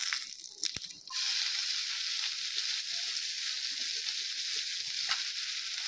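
Chopped onions sizzle and fry in hot oil for an Assamese egg curry, a steady close hiss that starts with a few clatters and then runs on evenly without talk.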